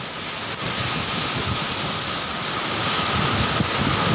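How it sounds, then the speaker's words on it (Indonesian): A strong whirlwind (puting beliung) roars steadily across Sapinggang and Aloang islands in Pangkep, South Sulawesi, filmed by a resident: loud continuous wind rush with heavy microphone buffeting, building slightly toward the end, no voices. "video amatir yang direkam salah seorang warga pada saat terjadi angin puting beliung di Pulau Sapinggang dan Pulau Aloang"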